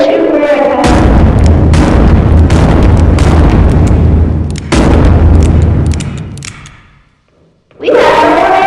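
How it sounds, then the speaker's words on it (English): Gunfire aimed at an iPad, loud booming blasts filling the first seven seconds with a sharp break near the middle, then fading to near silence before another burst. "I'm gonna shoot my iPad."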